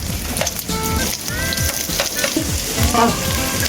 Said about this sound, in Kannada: ಇವಾಗ ಸ್ವಲ್ಪ ಕಟ್ ಮಾಡಿರುವಂಥ ಆನಿಯನ್ ಹಾಕೋಣ